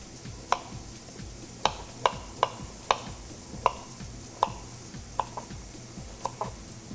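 Fresh ginger is sliced with a paring knife on a cutting board, producing about a dozen sharp, separate knife taps at an irregular pace, fairly faint over a quiet background.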